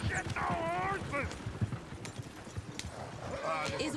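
Horses clip-clopping in the Red Dead Redemption 2 video game, a steady run of hoofbeats with a brief whinny, heard under people talking.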